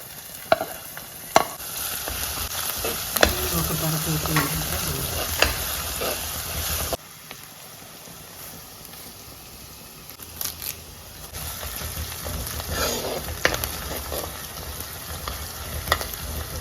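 Onions sautéing in a clay pot for Kerala-style fish curry. The sizzle is steady and close, with stirring and scraping sounds. It drops quieter partway through and then returns, and no one speaks.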